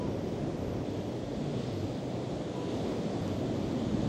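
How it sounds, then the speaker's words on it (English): Strong southwesterly wind of about 40 mph buffets the microphone on a rough, stormy beach, a continuous dense low roar with surf blending into the gusts, steady and loud throughout with no voices. "Quite rough today because we've got a southwesterly wind blowing at about 40 miles an hour."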